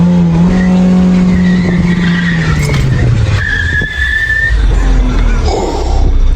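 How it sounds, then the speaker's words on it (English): Open-differential BMW Z3 doing donuts, an engine droning then dropping as tires skid and squeal in long smears, loud and close, with rumbling and gravelly noise near the end. "Is this open diff C3 gonna do donuts?"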